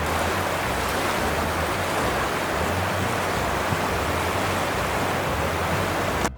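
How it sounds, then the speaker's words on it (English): A gushing river roars steadily and loudly, a dense, unbroken wash of rushing water with no voices, holding an even level until it cuts off at the very end. "Gushing river."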